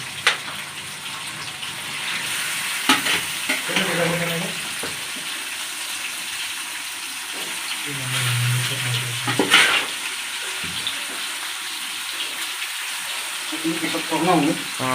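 Meat frying in a pan while being stirred, a steady sizzle and hiss running throughout with occasional scraping stirs, sitting under intermittent talk and other kitchen noise.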